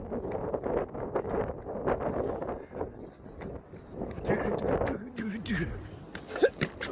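Wind buffets a phone microphone outdoors as a low, uneven rumble with gusty swells, fairly faint, mixed with scattered movement noise.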